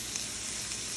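Mint leaves go into a hot pan of frying aromatics, giving a short burst of steady, close sizzling with a faint stir and no voices.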